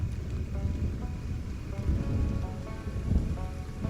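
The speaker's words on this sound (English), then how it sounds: "thanks for the rain. That's what we needed." Steady rain falling in the alien-world survival game Stranded: Alien Dawn, a dense continuous hiss with low rumbling texture throughout, no voices.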